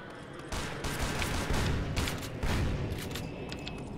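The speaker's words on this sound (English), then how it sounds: "Oh crap, I'm being shot at." Gunfire in the video game Tactical Intervention: rapid bursts of shots and booms arrive in clustered volleys, loud and close, with mechanical clatter between them and no talk.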